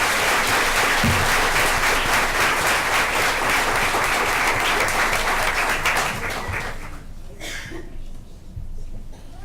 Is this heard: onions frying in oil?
no